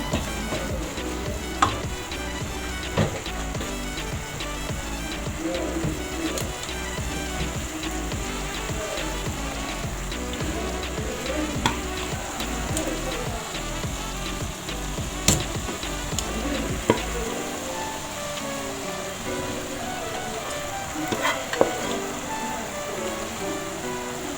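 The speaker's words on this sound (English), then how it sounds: "I'm going to add our cowpeas now." Cowpeas tumble into a pan of frying tripe (matumbo) and spinach, bringing a steady close sizzle with scattered clinks and scrapes of stirring; the low frying rumble drops away near the end while light sizzling and clatter continue.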